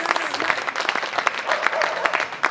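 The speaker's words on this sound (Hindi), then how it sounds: "ताली बजा दीजिए," An audience at a Hindi poetry recital applauds in a dense, steady burst of clapping that holds at full strength for a couple of seconds.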